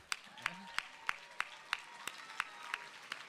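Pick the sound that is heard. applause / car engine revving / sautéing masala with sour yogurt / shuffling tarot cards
applause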